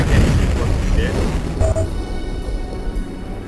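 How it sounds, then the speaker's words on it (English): A heavy rumbling explosion in the Duke Nukem video game as the player blows himself up, a loud low boom that decays into a fading rumble with mechanical rattles and faint tones. "And you blew yourself up."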